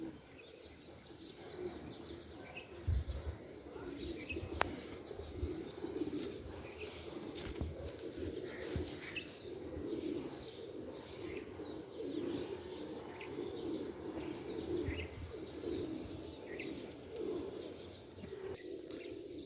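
Pigeons coo softly on a rooftop, with repeated low, rolling calls over several seconds, joined by occasional chirps and faint wing flutters, all fairly quiet and somewhat distant.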